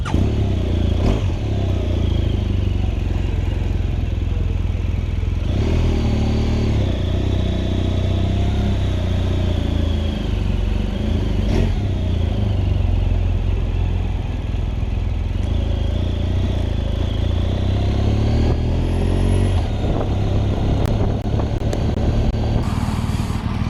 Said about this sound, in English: Let's just take it out for a ride and see what the adventure bike.